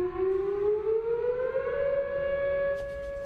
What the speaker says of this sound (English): Sirens blared today as Providence tested out its emergency evacuation plan for the port.